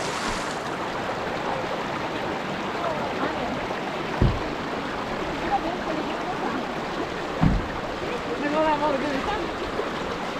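A car drives through the flowing water of Çat creek in Dersim, with a steady rushing wash of stream water throughout and a couple of brief low thumps or splashes; a voice speaks faintly beneath.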